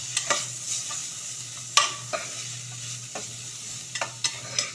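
Elephant foot yam pieces fry with coriander powder in a pan, a low steady sizzle under sharp, irregular scrapes and knocks of a spoon stirring them, close and clear with no talking.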